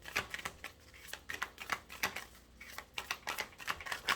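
Tarot deck riffled and shuffled by hand at close range, a quiet, steady patter of rapid card flicks in repeated bursts, with no talking over it.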